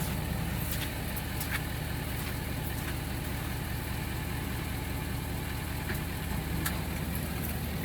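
A Ford F350 6.7 diesel dually stuck in mud runs with a steady, rumbling engine drone that holds even throughout, while one wheel spins in the mud; no talking.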